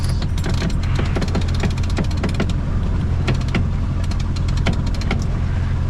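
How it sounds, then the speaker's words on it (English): An electric winch on a sailboat hauls in line during an upwind sail, giving a steady mechanical whir with a rapid series of sharp ratcheting clicks over constant wind and engine-like rumble. "a winch does a winch thing, but without having to tail the line myself"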